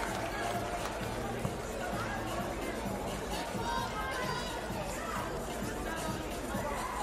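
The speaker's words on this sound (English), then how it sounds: "The crowd is going wild." Dense crowd noise at the women's 3x3 basketball final between France and Lithuania in Clermont-Ferrand, a steady roar of cheering and chatter filling the arena, broad and sustained throughout.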